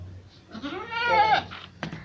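A goat offered for sale bleats once, loud and close, a wavering cry lasting about a second, followed by a brief sharp knock.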